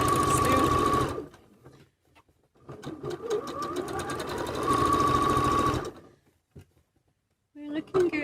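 A domestic sewing machine stitches a bucket hat with Wonderfil specialty thread, running in two steady, whirring bursts with a pause between them, loud and close, followed by a brief voice at the end.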